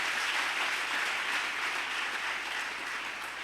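A church congregation claps together, a dense, steady wash of applause that stays loud and even throughout with no speech on top.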